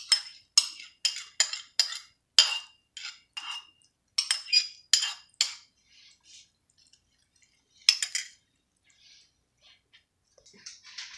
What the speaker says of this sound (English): And now whisk it again.